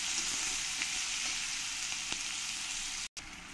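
Chopped onions frying with spices in hot oil for a Kabuli chole dish, a steady close sizzle with faint stirring scrapes throughout and a brief cut near the end.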